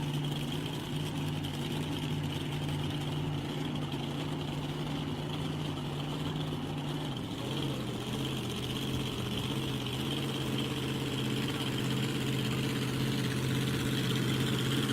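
A car engine idles steadily after being started, a continuous low rumble with a constant hum that stays loud and close throughout, with no voices.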